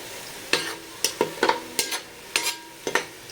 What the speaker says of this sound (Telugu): ఆనియన్స్ బ్రౌన్ కలర్ వచ్చే వరకు వేయించుకొని